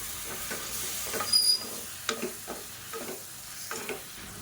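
Quarter kilo of chicken frying in a pan with ginger garlic paste and tomato, a soft steady sizzle broken by scraping stirs and small clattering bursts.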